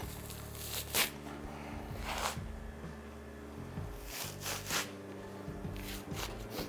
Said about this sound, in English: Now we'll let the hide puller take it from there.